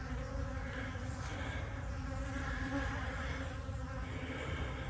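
Dense, continuous buzzing of many bees at an apiary on a savanna, a steady hum filling the scene throughout with no voices, close and even in loudness.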